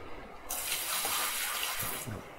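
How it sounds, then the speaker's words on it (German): Water tipped from a bucket into a sluice in the video game Gold Rush The Game: a sudden loud gushing pour that starts abruptly, holds as a broad splashing rush for about a second and a half, then cuts off. "Dann das Wasser da reinkippen."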